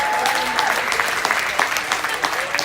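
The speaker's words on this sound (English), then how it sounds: "Give him a round of applause" An audience gives a round of applause at a motivational talk, a brief burst of lively clapping with individual sharp claps standing out, and a voice faintly audible under it.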